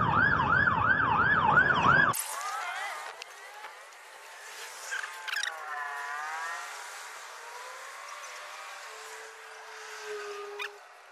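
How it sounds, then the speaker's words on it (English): A loud wailing siren sweeps up and down for about two seconds, then cuts off, leaving quieter distant siren wails and traffic noise drifting in the background. "I hear the sirens"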